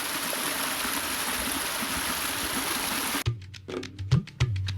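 A monsoon-swollen stream rushes and gurgles in a steady broadband wash for about three seconds, then cuts off abruptly, leaving a few low thumps and handling knocks.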